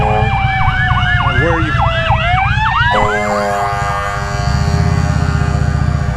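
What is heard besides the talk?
ambulance siren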